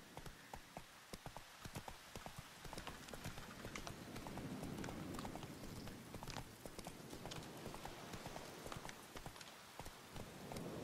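Roach, a horse in The Witcher 3, clip-clops steadily at a walk, the hooves close and even over a soft, rain-like background hiss with no talking.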